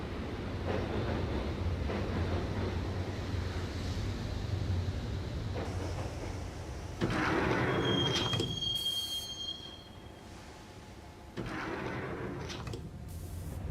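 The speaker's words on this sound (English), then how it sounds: "the train doors had already shut behind me, and I was in for the ride" Max Payne subway train rolling along rails, a steady loud rumble with clattering wheels, a sharp metallic squeal midway and a sliding door shutting near the end.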